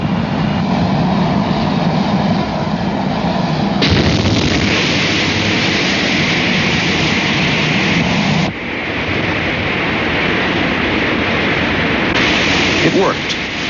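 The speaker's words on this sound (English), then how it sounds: "The X-15's first powered flight was perfect" An X-15 rocket plane's engine firing during its first powered flight, a loud, continuous roaring rush of broadband noise that shifts abruptly in tone a few times.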